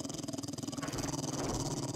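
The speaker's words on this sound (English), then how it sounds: "It's a dog." A zombie dog in the video game 7 Days to Die growls in a low, rough, continuous rumble that stays close and steady for the whole stretch, with no voices over it.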